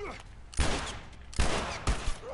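Three sharp gunshots in the video game The Last of Us, each a loud booming crack with a short decaying tail, spaced irregularly over a quiet ambient background.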